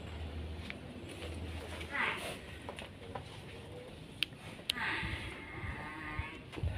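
A water buffalo moos at a buffalo pen in Kudus, Central Java, low and drawn out, with faint voices and outdoor rustling around it.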